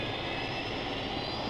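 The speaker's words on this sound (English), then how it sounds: "Venus has to fly a plane." Steady, loud drone of an airplane engine in flight during a TV adventure episode, a continuous broadband roar with no breaks and no voices.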